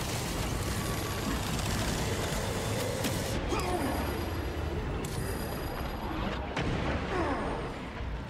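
Dense, sustained gunfire and explosions from the Warhammer 40k Space Marine II video game roar continuously and loudly throughout, with mechanical clanks and booming impacts layered over the steady battle din.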